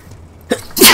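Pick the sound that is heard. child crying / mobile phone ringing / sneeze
sneeze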